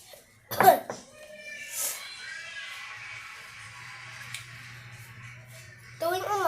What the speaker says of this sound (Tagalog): Tuwing umaga, umuubo ako at sumisipon.